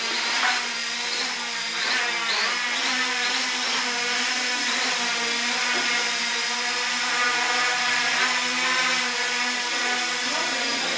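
A Hubsan H501S quadcopter hovers indoors in altitude hold mode, its motors giving a steady, loud, close whine with layered harmonic tones that waver slightly in pitch, continuous throughout and without talk.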